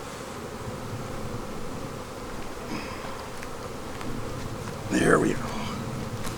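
Bees buzzing around an open hive in a bee yard, a steady close drone under a few brief spoken words.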